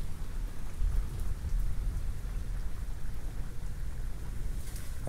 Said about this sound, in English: cause it's raining